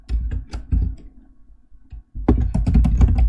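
Keys clatter on a computer keyboard in quick, close bursts, with a brief pause in the middle before a denser run of taps.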